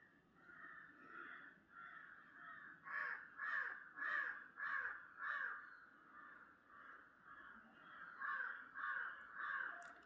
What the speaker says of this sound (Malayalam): ഇവിടെ പുറത്ത് നല്ല കാക്കകൾ കാക്കപ്പട